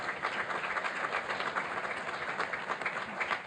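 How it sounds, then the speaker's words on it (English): Attendees at a school board meeting give a round of applause, a steady, fairly faint patter of many hands clapping heard from some distance with no voices over it. "Let's give them also a round of applause."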